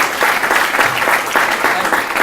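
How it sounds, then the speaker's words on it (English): A lecture audience gives a loud, dense round of applause for a speaker after a talk on the Lancaster County economy, with sustained close clapping throughout. "let's give another round of applause to Mr."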